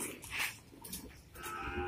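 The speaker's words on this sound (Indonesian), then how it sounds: "Tepatnya di lapak sapi" Cattle lowing at the Kebumen livestock market stalls, where cows are sold for Eid al-Adha, with two or three drawn-out moos at moderate distance over faint market background.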